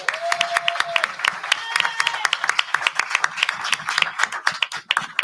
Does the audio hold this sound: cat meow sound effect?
no